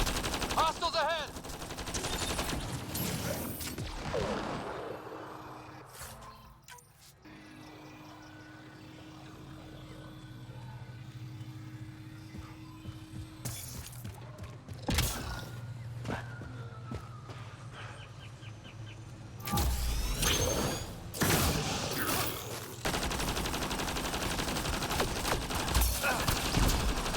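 A light machine gun in Mass Effect Andromeda, a video game, rattles in several long sustained bursts separated by pauses, fairly loud against a background of ambient game sound and occasional voices.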